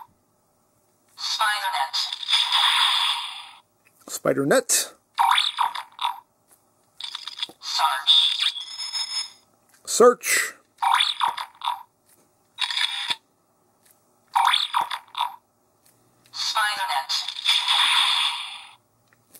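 Kamen Rider Geats DX Spider Phone toy playing electronic sound effects and recorded announcer voice lines in short, separate bursts, heard up close with silent gaps between each one.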